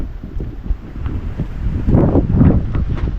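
Strong Typhoon Pepito wind buffeting the microphone in loud rumbling gusts that swell toward the end, with no voices.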